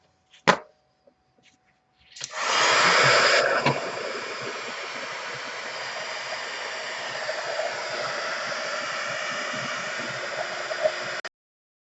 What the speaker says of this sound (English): So now I'm going to take my heat tool and I'm going to heat that up.